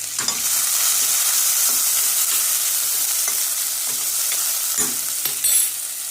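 Onion and green chillies fry in a pan, giving a loud, steady sizzle with occasional scraping stirs throughout and no talking.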